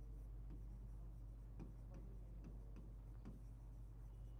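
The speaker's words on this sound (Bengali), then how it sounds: "আমি এটাকে সাদা ব্যাকগ্রাউন্ডে লিখি" Pen or marker writing on a white surface, soft scratchy strokes in short irregular bursts, faint over a steady low electrical hum.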